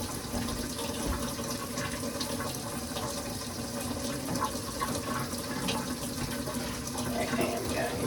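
Tap water runs steadily into a pot for hard boiling dinosaur eggs, a moderate continuous splashing flow that lasts throughout with no talking over it.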